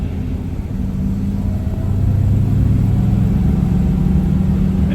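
A 1950 Oldsmobile 88 with its 303 Rocket V8 and three-speed manual pulls away, a deep, steady engine rumble swelling louder about halfway through and holding there, close and with no talk.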